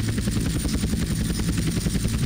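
Helicopter flying in GTA San Andreas during an airport race at Las Venturas, with a loud, close, steady rotor chop and engine drone throughout, pulsing rapidly.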